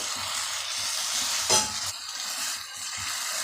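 Ragi thopa with cashews stirred in a pan, a steady soft sizzle with scraping strokes and one brief louder clatter midway, close and alone without talk.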